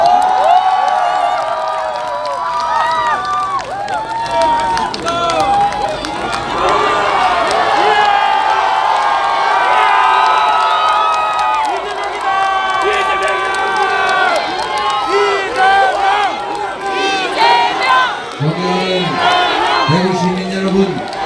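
A large crowd roars and cheers at an outdoor political rally at Dongdaegu Station in Daegu, with continuous loud shouting, chanting voices and scattered applause throughout, and a few louder calls near the end.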